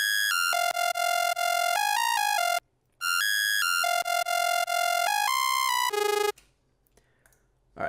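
Synth bass preset with macro-modulated pitch playing a bright, buzzy electronic riff of stepped notes that jump between pitches, repeated twice with a short gap, then cutting to near silence at the end.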